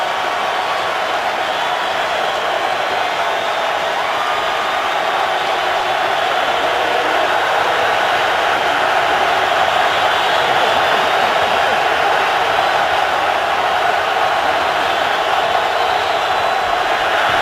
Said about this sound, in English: here comes the Philadelphia crowd